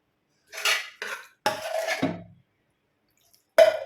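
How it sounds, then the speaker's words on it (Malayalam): A spoon clinks and scrapes against a metal vessel while vermicelli is stirred into thickened milk, in a few short bursts with pauses between, close and fairly loud, with no talking. "നല്ലതുപോലെ ഒന്ന് മിക്സ് ചെയ്യാം സേമിയയും പാലും എല്ലാം കൂടെ നല്ലതുപോലെ മിക്സ് ചെയ്ത് വെച്ചിട്ടുണ്ട്"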